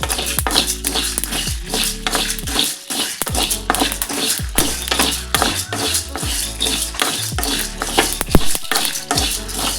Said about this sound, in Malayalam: അരി ലേശം വറുത്ത് നാല് ഉണക്കമുളക് ഇട്ടിട്ട് ലേശം പെരിഞ്ചീരക കേട്ടോ അതും കൂടെ നമുക്ക് മൂപ്പിച്ചെടുക്കാം